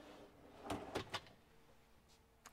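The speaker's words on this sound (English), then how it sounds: "The other galley option with that Happy Camper package is this cooler slide-out drawer." A cooler slide-out drawer in the galley of an Arrow camper with the Happy Camper package gives a few quiet rumbling slides and soft clunks close by, followed by faint settling noises.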